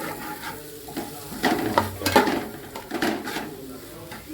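Fish cutlet masala stirred in a frying pan over a low flame, a close sizzle broken by several scraping and knocking strokes of a spoon on the pan.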